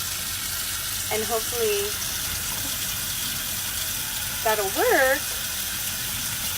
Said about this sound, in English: I am gonna run the water until there isn't any water